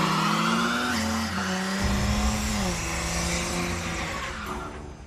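A turbocharged, fuel-injected, five-speed minivan launches hard: a loud, close engine roars and revs up while tires squeal, continuous for several seconds with no voices.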